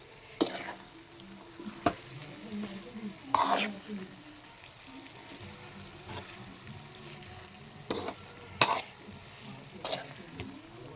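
Ridge gourd curry cooks on low heat in a pan with a soft, intermittent sizzle and bubbling, broken by a few sharp clinks and stirring scrapes close by; no voices.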